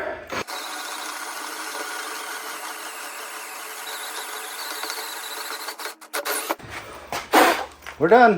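A machine in low gear cuts through metal with oil added. It makes a steady, grinding mechanical drone for about six seconds, then stops abruptly, and someone speaks briefly afterward.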